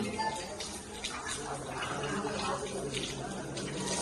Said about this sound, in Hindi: पूरे अच्छे तरीके से दोनों हाथ ये धोए जाते हैं